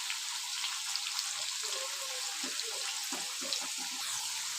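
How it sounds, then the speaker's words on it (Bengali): Potatoes frying in oil in a pan give a continuous hiss, and a few soft knocks are heard as they are turned over near the end. "আলুগুলো একদিকটা ভাজা হয়ে গেছে, উল্টে নিলাম আরেক দিকটা ভাজার জন্য।"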